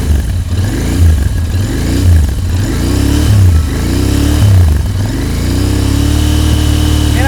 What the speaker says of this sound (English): You mind giving us a rev?